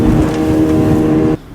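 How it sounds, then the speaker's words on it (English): A 25-year-old 60 horsepower two-stroke outboard pushes a boat at about 27 knots through choppy water, a loud, close, buzzing engine roar that holds steady and then cuts off abruptly. "what a 25-year-old 60 horsepower two-stroke can do in a bit of a lump on, 27 knots"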